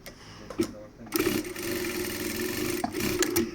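A beltless, oil-free automatic straight-stitch sewing machine runs at a steady, fairly quiet hum for a few seconds, with a brief pause and restart near the end.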